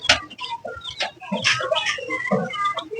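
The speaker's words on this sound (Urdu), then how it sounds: "اور یہ چلتے ہیں مرغیوں کے پاس" Chickens cluck from a rooftop coop, a busy run of short overlapping clucks and squawks close by for a few seconds, with no talk.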